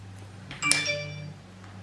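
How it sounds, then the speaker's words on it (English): A mobile phone rings indoors with a short bright chiming tone that swells and rings out over a steady low hum, fairly close and moderately loud. "I do apologise, that's my phone."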